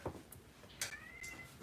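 A cat out in pouring rain cries to be let in, giving one clear drawn-out meow close by, with a few softer bumps and faint rain noise around it.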